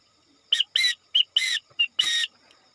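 Whistle blasts sound out Morse code, alternating short dots and longer dashes in a quick sequence of six close, shrill, piercing tones over a quiet background.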